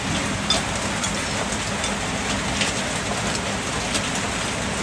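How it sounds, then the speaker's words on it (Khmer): Heavy rain falls steadily, a dense, even hiss of drops close by that holds at one level for the whole stretch, with no voices. "បងប្អូនស្ដាប់សំឡេងទឹកភ្លៀង"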